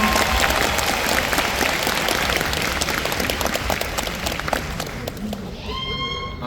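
A concert audience at The Golden Show Concert 2024 applauds, a dense, steady roar of many hands with crowd noise, slowly easing off toward the end as a voice begins speaking over the fading clapping.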